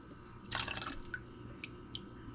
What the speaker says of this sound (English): I'm going to pour the hot oil in here